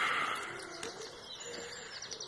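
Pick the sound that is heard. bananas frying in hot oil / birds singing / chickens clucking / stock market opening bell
birds singing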